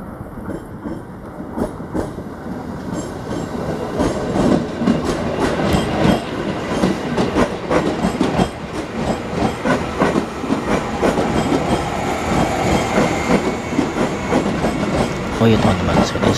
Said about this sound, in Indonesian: KRL menuju stasiun Depok.